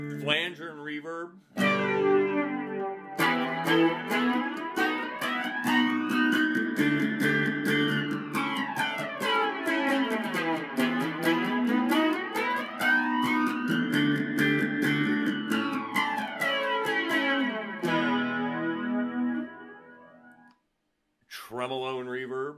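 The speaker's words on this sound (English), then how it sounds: "Flanger and reverb." Guitar chords through a Vox DA5 modeling amp's sweeping flanger, the whooshing jet-like swirl rising and falling in slow cycles, with a reverb tail and brief pauses.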